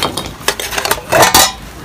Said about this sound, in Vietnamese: Bây giờ là mình sẽ bắt đầu mở cái nồi này ra nha